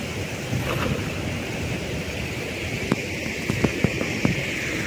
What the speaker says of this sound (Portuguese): A água descendo com muita força.